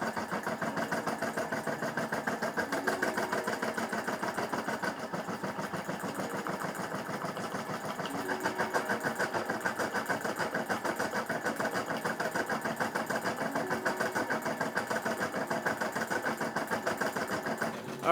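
A Brother SE600 embroidery machine stitches out a patch in a rapid, even mechanical chatter of the needle, steady and moderately quiet, running the whole time without talk.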